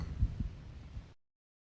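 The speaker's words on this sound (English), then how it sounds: "The heartbeat's a subtle one as well." Faint, low thumps of a heartbeat, a couple of soft beats in a steady rhythm, muffled, then the sound cuts off.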